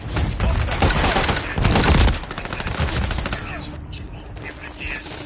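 Rapid gunfire bursts in the video game Call of Duty: Modern Warfare 3, loud and dense for about two seconds, then easing into lighter continuous shooting and battle noise to the end.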